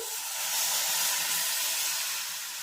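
Prepared batter for roasted black chickpeas poured into a hot tempering of turmeric and coriander-cumin, giving a loud, steady hissing sizzle that swells slightly and holds for nearly three seconds with no talk.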